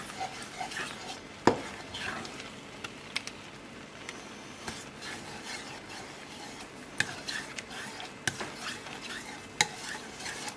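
Sour cream being stirred into a sauce in a pan, a steady soft scraping and swishing with occasional clinks of a utensil against the pan, quiet and continuous over a faint sizzle.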